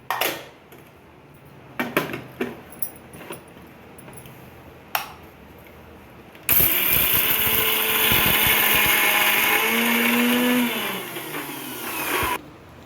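A kitchen mixer grinder grinds fried onion and chana dal in a small jar, a loud steady whirring that runs about six seconds and then cuts off. Before it starts there are light clinks of pots and utensils.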